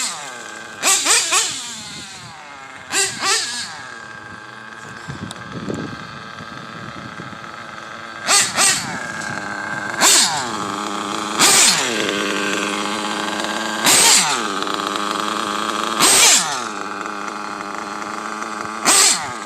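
A small .21 nitro model engine idles with a high buzz and repeatedly revs in sharp, screaming bursts at irregular intervals, loud and close.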